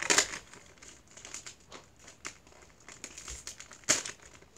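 Pokemon booster pack foil wrapper crinkling and tearing open up close, a burst of crackling at the start, scattered rustles through the middle and another sharp crinkle near the end.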